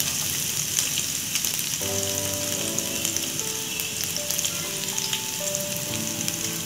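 Onion pieces frying in a pan for Maggi masala pasta, a continuous soft crackling sizzle with scattered pops, joined partway through by faint background music.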